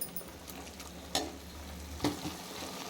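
Masala spices frying in a pan for a beetroot gravy, a steady close sizzle with a couple of sharper stirring scrapes and clatters.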